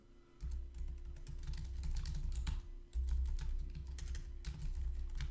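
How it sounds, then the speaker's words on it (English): Typing on a computer keyboard, a quick run of soft key clicks in close, quiet bursts over a low steady hum, with no talk. "let's type in"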